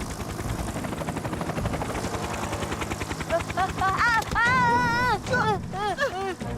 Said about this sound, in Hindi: टॉम थॉमस अपने हेलीकॉप्टर के साथ।